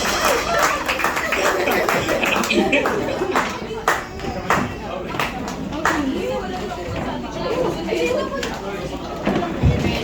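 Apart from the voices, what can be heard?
congregation clapping loudly in church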